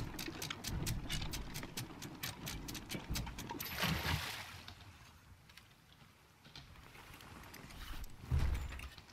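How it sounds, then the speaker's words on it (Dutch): Ship's anchor hauled up in the pirate game Sea of Thieves: a fast run of evenly spaced ratcheting clicks for a few seconds, then a rushing, windy wash and a soft clunk near the end. "Ik zal het ankertje ophalen."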